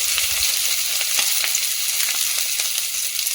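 Bay leaf, dried chili, whole cumin and finely chopped onion fry in hot oil. A steady, close sizzle runs throughout, broken by a few light stirring taps.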